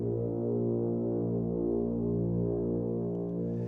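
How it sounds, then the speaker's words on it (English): Several contrabass tubas sustain a deep, rich held chord together at a holiday tuba festival, thick low harmonics droning steadily and loudly throughout without pause. "when the contrabass tubas play together, they sound like this"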